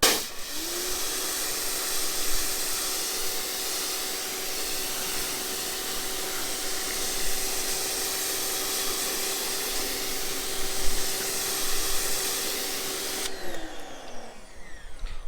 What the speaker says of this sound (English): spraying some water on the tire with my pressure washer